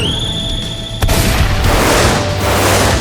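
An animated character fires a gun built into one arm, a sharp loud report that breaks over a steady high whine, followed by a dense, roaring wash that lingers for a couple of seconds.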